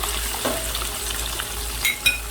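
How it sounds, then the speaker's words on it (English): Tofu frying in a pot of oil for a Guyanese-style veggie chow mein, giving a steady close hiss and crackle with a couple of sharper pops near the end. "Alright, so that's the tofu inside the oil now, frying."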